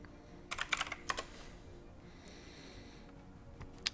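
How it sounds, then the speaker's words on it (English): Someone types on a computer keyboard, with a quick cluster of clicking keystrokes early on, a few scattered taps after, and faint breathing in the quiet background. "Sorry if y'all can hear me typing."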